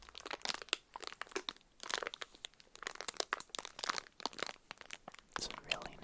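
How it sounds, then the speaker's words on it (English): Crinkling wrapper of Joyride healthy candy, close and crisp with repeated crackling bursts, with soft whispered talk in places. "It's a really nice crinkle."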